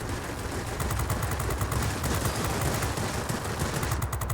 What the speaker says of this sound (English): now we're getting close enough to where the actual 50 cal machine guns will start hurting him too